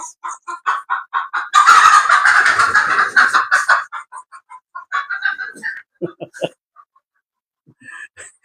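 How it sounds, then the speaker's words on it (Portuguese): Chickens and roosters on a farm cluck and call in a steady run of loud, close bursts, with a denser noisy stretch of flock commotion partway through and scattered clucks continuing after. "Aqui é cheio de galinha, irmão, de galo"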